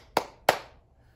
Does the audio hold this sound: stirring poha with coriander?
no